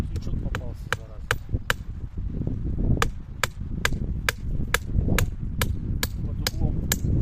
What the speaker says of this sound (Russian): Забиваем гвоздь.